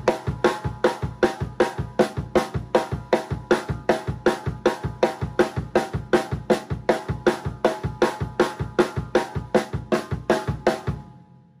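Drum kit played alone in a linear gospel-style eighth-note phrase, a steady run of crisp, evenly spaced hits mixing cymbal, snare and kick, close and loud for about eleven seconds before cutting off.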